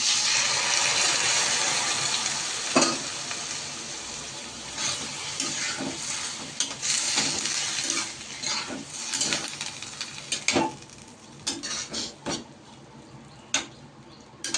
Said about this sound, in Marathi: आता याच्यामध्ये आता आपण चवळी टाकून घेऊ